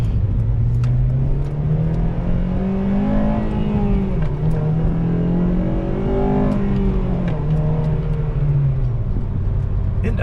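Honda Civic Si engine heard from inside the car, droning loudly as it climbs in pitch, dips at each gear change, then climbs again through the gears.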